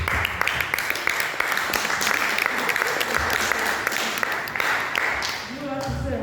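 A class applauds together in a room at a celebration, with steady, dense clapping throughout and voices mixed in beneath it, tapering off near the end.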